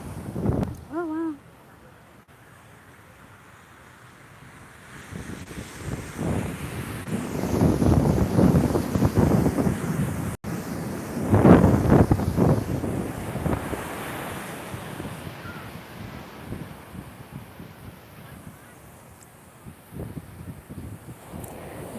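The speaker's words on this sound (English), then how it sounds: "Here taking a walk at the beach. It's lovely." Wind and surf along Laguna Beach, a steady broadband wash of breaking waves swelling and easing with gusty wind buffeting the microphone, a brief voice near the start.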